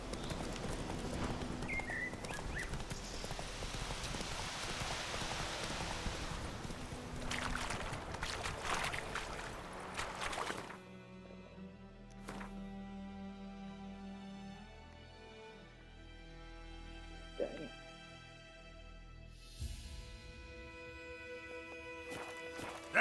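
Hoofbeats of the horse Roach in The Witcher 3 video game, steady clip-clop at first under ambient game sound, then fading into quieter scattered noises and music.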